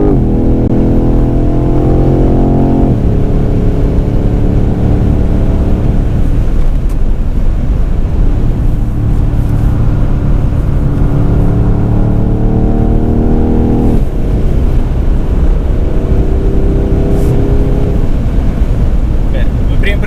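A BMW M convertible with a 4.4-litre V8 making 530 hp, driven hard on a race track: loud, continuous engine roar that climbs through gears in repeated upshift sweeps, with a voice talking over it.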